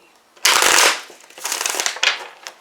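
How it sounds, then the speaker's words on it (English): A deck of tarot cards being shuffled close up, a sharp riffling burst followed by softer rustling and a final quick flutter of cards. "One more shuffle."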